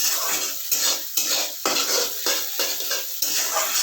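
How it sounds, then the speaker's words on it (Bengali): Chopped green chillies stirred and frying in a pan, with a spoon repeatedly scraping the metal in a steady rhythm of about seven strokes over a continuous bright sizzle, close and fairly loud, no talking. "সাথে আমি দিয়ে দিচ্ছি কাঁচা লঙ্কা কুচিটা, একটু ভাজবো ভালো করে।"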